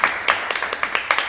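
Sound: applause

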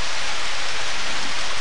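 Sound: rain falling in the video game Harvest Moon: Back to Nature

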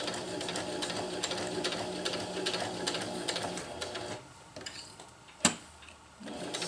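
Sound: sewing machine sewing hammock tie-outs

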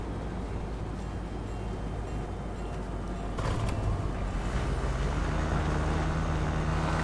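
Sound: motorbike drifting in Fortnite video game

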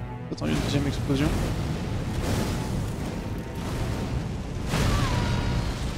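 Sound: second explosion in a video game

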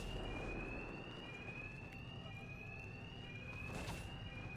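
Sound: alarms in video game Batman: Arkham Knight

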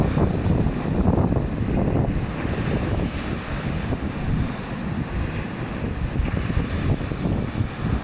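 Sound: wind on the Crimean seashore

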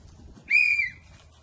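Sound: whistle blown as a field-work signal

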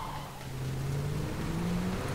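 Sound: car passing

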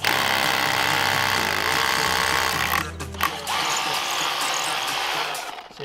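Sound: drill on hammer setting fixing timber screening to brick

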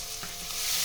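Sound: crushed garlic frying in pan

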